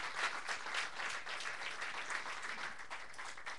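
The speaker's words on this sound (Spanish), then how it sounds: "Denle un aplauso al Señor con libertad, si lo desea hacer así." A church congregation applauds together, a steady wash of many hands clapping at moderate level with no voices standing out, holding evenly for several seconds.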